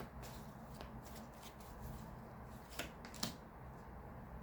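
Tarot cards handled and laid out on a table, soft papery shuffling and a couple of crisp flicks and slaps, close but faint over a low background hum, with no voices.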